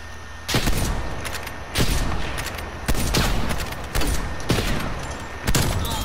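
Five loud shotgun blasts boom out at roughly one-second intervals in a video game, each a sharp broadband crack that rings out and decays before the next.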